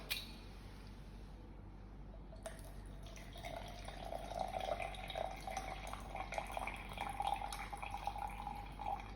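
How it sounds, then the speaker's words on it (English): 100 ml of water pours into an empty container in a lab, a soft steady trickle with light splashing that rises in pitch slightly as it fills; quiet and close. "I'll pour it into the empty container."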